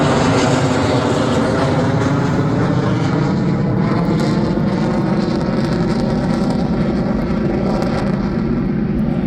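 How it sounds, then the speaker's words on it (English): A Lockheed U-2 spy plane flying overhead to land, its loud, steady jet roar filling the air continuously without letup for several seconds, close and powerful. "Many people were very excited to see the U-2 arrive."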